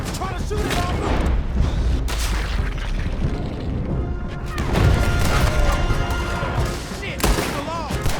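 Dense, sustained gunfire from Red Dead Redemption 2 during a roadblock shootout in a bank robbery getaway, loud bursts and heavy booms layered continuously, with shouted voices mixed throughout.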